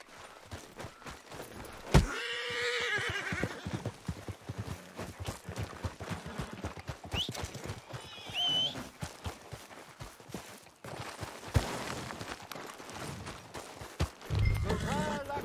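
Horses gallop and neigh in Red Dead Redemption 2, with irregular hoof thuds rolling along and a brief whinny partway through. Characters talk over the hoofbeats at times.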